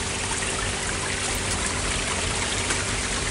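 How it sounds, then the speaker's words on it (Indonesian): A steady, full rush of water from the small Manuaba Waterfall in Tegallalang, Gianyar, Bali, constant and close, with no breaks in the flow. "Dan itu ada air terjun kecil."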